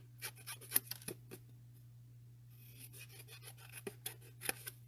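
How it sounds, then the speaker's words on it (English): Scissors trim craft material for candy treats with quiet, uneven snips and rasping cuts over a steady low hum, faint and close. "So I'm just going to take some scissors."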